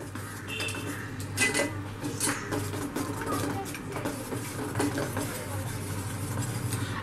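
Cocoa powder being mixed into a homemade chocolate fudge mixture, with steady scraping and clinking of a utensil against a pot, close and continuous over a low background hum.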